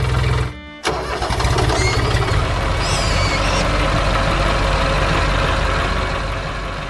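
A tractor's diesel engine cranks and roars to life after a brief pause, then settles into a loud, steady rumbling idle nearby; from a cartoon.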